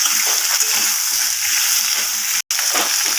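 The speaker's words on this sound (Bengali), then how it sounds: "আলু কুমড়ো এবং শাকের ডাঁটাগুলোকে ভালোভাবে এইভাবে নাড়াচাড়া করে ভেজে নিতে হবে" Potato, pumpkin and red amaranth stalks stir-fry in a pan with a dense, continuous hiss of frying and scattered light clatter from stirring, close by and without speech.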